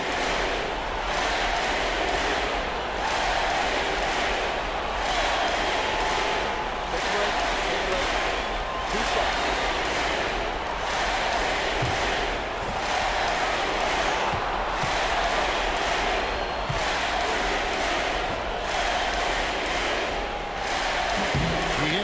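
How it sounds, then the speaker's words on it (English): A packed basketball arena crowd roars and applauds without letup during a 2008 NBA playoff game between the Timberwolves and Mavericks, a dense, steady wall of cheering with a commentator's voice over it. "They're letting him hear it. The applause is deafening."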